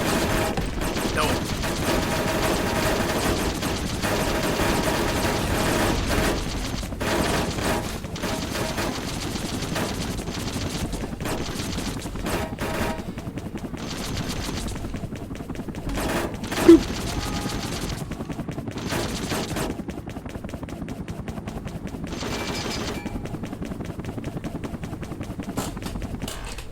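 Sustained bursts of machine-gun fire and scattered shots crackle through a Vietnam War air-combat video game, mixed with rumbling engine noise and mechanical clatter, dense and continuous with a few sharper hits standing out.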